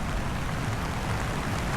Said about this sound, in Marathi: आणि पाऊस वाढलेला आहे